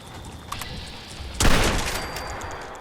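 Gunfire in Fallout 76 opens with a few faint pops, then a single loud, close blast whose echo decays slowly under a steady game-ambience hum.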